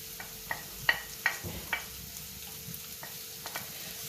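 Leeks hiss softly in a hot pan while a utensil stirs them, giving a faint sizzle under a series of irregular light taps and scrapes against the pan, close by with no talk.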